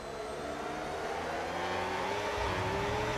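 Race cars, two Ferraris, an Audi and a Mercedes, roar steadily through a racing video game set at the Qatar GP, a continuous loud engine drone with rising revs building toward the end.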